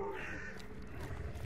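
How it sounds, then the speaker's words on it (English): Crows cawing in the video game Hunt: Showdown, a steady muffled cluster of calls that sits faint and fairly distant in the game's background ambience. "There's crows right there."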